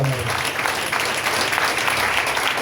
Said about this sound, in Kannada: ದೊಡ್ಡ ಚಪ್ಪಾಳೆ ಕೊಟ್ಟು ದೇವರಿಗೆ ಮಹಿಮೆ